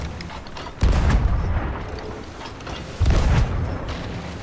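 Cannon fire striking a ship during a naval battle in Sea of Thieves, two heavy booming impacts about two seconds apart over a constant sea and ambient background, loud and close.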